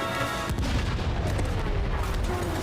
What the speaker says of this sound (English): Explosion on deck!